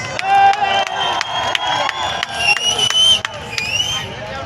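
A huge crowd at a large outdoor rally-style gathering cheers and roars loudly and continuously, with bursts of whistles and shouts rising above the dense, steady crowd noise.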